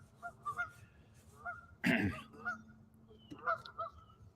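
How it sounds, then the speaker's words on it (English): Geese honking outdoors, a loose run of repeated nasal honks at moderate distance, with one louder burst of flapping or splashing in the middle and more honks after it. "Ivy loves the geese."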